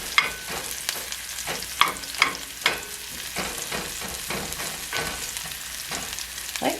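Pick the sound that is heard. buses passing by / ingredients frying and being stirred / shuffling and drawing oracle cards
ingredients frying and being stirred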